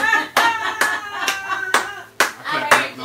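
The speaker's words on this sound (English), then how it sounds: "I clap for myself on that one." A single person claps, giving about seven sharp, close hand claps at an irregular, uneven pace in a quiet indoor room.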